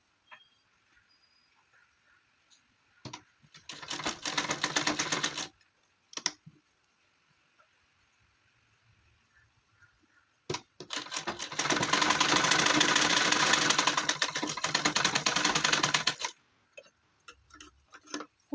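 A sewing machine runs a quarter-inch seam on a gown for a three-year-old child, in two bursts of fast, steady stitching: a short run and then a longer one, close and clear with quiet gaps and no talk.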